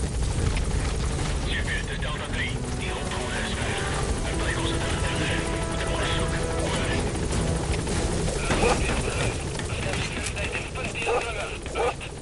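Helicopter in a video game arriving at a landing zone, its steady rotor drone loud and continuous throughout under game music and effects.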